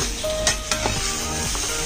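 Pork baby back ribs sizzle steadily in a dry pan with no oil, with a few short clinks and scrapes as they are stirred, close up with no talking.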